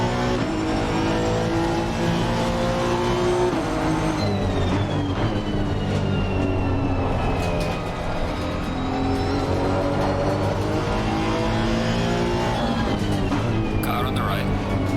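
Race car engines roar continuously during a messy opening lap in the Assetto Corsa Competizione racing game, loud and close, with pitch sweeping up and down through gear changes as rival cars run alongside.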